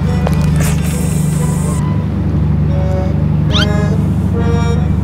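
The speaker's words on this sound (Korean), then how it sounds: "야옹이, 이거 먹어" A cat meows nearby during an overnight fishing trip, with a few short meows and one rising call over a constant low engine-like hum.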